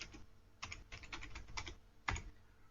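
Someone types MATLAB code on a computer keyboard in a quiet room: a brief run of close, crisp key clicks, a short pause, then one louder keystroke, with no one speaking.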